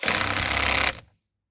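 A Dnipro-M DTW-202BC cordless impact wrench, set to its 400 newton-metre breakaway mode, runs in a single loud, steady burst of rapid hammering for just under a second, then cuts off abruptly with a brief fading whir.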